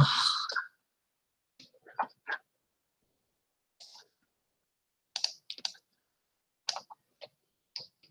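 A URL is typed on a computer keyboard in sparse, close clicks and short clusters of keystrokes separated by silent pauses, following an opening burst of noise.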